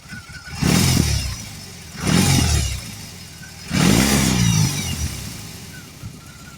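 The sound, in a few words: BMW R18 Transcontinental motorcycle revving, factory exhaust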